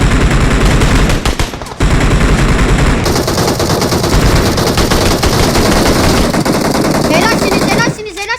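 Rapid automatic gunfire in PUBG Mobile, loud and close with dense bursts running almost continuously for about eight seconds, briefly dropping out near the one-second mark, with excited talk over it.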